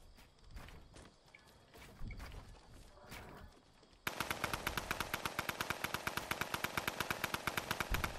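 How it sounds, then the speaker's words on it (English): Fortnite squad-match gunfire erupts midway as a fast, sustained automatic burst of sharp repeated shots, preceded by scattered quieter single shots and in-game footsteps. "Getting shot, Jesse."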